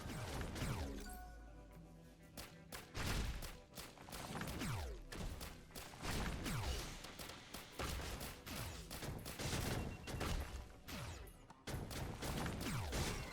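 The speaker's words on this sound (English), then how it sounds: "Ah, there was one more spike bomb." Rapid, loud spike bomb explosions in Risk of Rain Returns go off in dense bursts of booming blasts and crashes, nearly continuous over several seconds with brief gaps between volleys.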